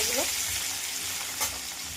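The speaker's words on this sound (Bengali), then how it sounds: "আলুগুলো কড়াইতে দিয়ে দিয়েছি, এবার লাল লাল করে ভেজে নেবো" Potatoes frying in hot mustard oil in a wok give a loud, steady sizzle that carries on without a break, with a brief stirring scrape partway through.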